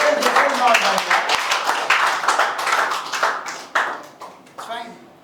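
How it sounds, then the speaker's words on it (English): Classmates in a classroom clap for a student, a lively burst of many hands clapping in uneven rhythm that thins out into scattered claps, with voices talking over it. "Please clap for her, yeah?"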